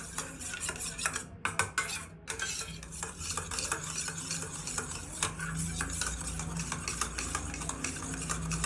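A spoon stirs a sugar, salt and water sauce mix for broccoli manchurian, scraping and clinking against the bowl in a steady, close rhythm with no talking.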